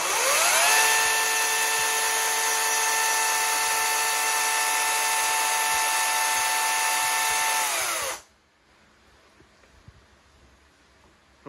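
A 56V battery-powered chainsaw runs at full speed, a loud, steady high-pitched whine that holds for about eight seconds and then cuts off abruptly, leaving near silence.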